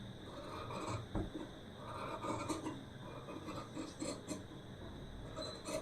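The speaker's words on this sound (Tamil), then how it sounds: "இப்போ நம்ம கரெக்டாக மார்க் பண்ண அளவில் கட் பண்ணி எடுத்துடலாம்." Scissors snip and rasp through blouse fabric along marked cutting lines, a steady close scraping texture with a few sharper cuts, heard alone without talk.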